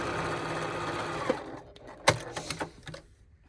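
A sewing machine stitches a seam on a quilted Christmas stocking, a steady mechanical whir for over a second before tapering into a few short, uneven bursts and stops.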